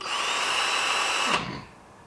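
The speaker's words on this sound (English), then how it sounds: "I've put the tensioner unit in the drill" A power drill whirs steadily at a high pitch while fitted with an alternator tensioner unit, during a Birkin Super 7 kit car build, then cuts off and winds down near the end.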